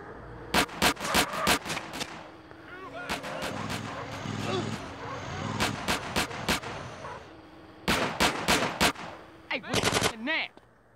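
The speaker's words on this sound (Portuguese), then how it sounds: "Tá trocando tiro de novo." Gunfire in the video game GTA San Andreas, with loud, close bursts of rapid machine-gun shots separated by short gaps, plus a busy mix of game sounds between the volleys.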